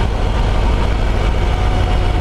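A 2020 Harley-Davidson Road Glide engine idles loudly and steadily up close, a low continuous rumble with constant vibration.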